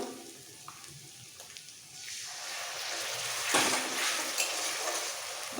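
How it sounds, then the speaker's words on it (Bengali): Onions frying in hot oil in a pan while a katla fish curry is cooked, a steady broadband sizzle that builds louder partway through and continues with no talk. "এবার পেঁয়াজটাকে একদম লাল করে ভাজতে হবে"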